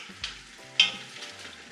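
Oxtail in tomato sauce is stirred in a pot, with a few soft scraping strokes over a low steady simmer, close by and fairly quiet, with no talking.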